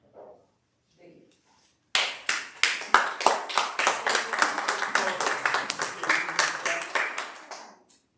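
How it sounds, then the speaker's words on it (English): Audience at a library board special meeting bursts into loud, dense clapping with sharp individual claps, sustained for several seconds before fading, preceded by brief quiet murmuring. "if you will please refrain from clapping and catcalling"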